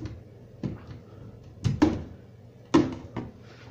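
A minibar cabinet door opens in a Centara hotel room in Hat Yai, with a few soft clicks and knocks of hardware spaced across a quiet room.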